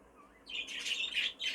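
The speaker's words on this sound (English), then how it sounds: "It's quite a nice big bird." A three-month-old hen bird calls in a short burst of high chirps and squawks, starting after a quiet moment, close and moderately loud, with no talking.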